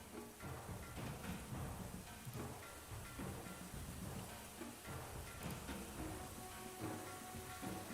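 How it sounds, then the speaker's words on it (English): Steady rain in a tabletop role-playing session, a dense, even hiss with low rumbling like distant thunder underneath, continuous and fairly faint, with no voices over it. "The rain effect."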